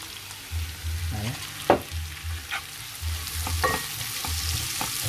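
Onion tipped into hot oil with toasted garlic, giving a steady close sizzle with a few stirring clatters, while a low hum runs underneath and a voice speaks briefly.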